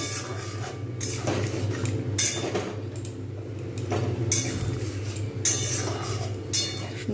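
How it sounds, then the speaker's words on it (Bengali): A spoon stirring a cornflour-thickened sauce for chilli cauliflower in a pan, producing repeated soft scraping clinks at an irregular rhythm over a steady low hum, with no talking. "কর্নফ্লাওয়ারটা দিয়ে কিন্তু আমাকে নাড়তে হবে"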